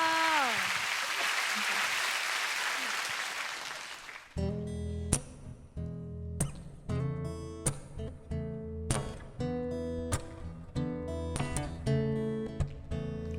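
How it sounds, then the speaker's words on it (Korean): Studio audience applause on a Korean music show swells loudly for about four seconds, then gives way to guitar-led music with a steady beat. "박수로 한번 청해 듣도록 하겠습니다"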